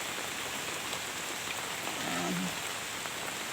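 Steady rain falls on potted garden plants in a home garden, a dense, even hiss of drops close by with no talking, holding at the same level throughout.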